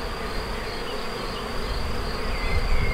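A swarm of honey bees from a first-year backyard apiary drones in a loud, continuous buzz close by, building slightly in intensity with no voices over it.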